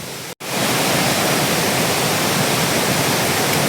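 Chandranagar waterfall roaring as a loud, dense, continuous rush of falling water, broken only by a brief cut near the start.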